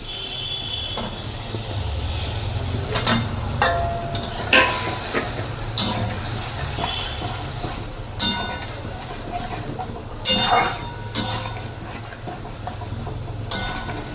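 Paneer sizzles in a pan for a vegetarian niramish paneer dish, a steady fry broken by scraping stirs and sharp metallic clinks of the spatula against the pan.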